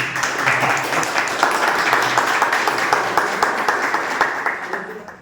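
A crowd applauds with steady, rapid clapping that fills the room, holding a consistent level before tapering at the end.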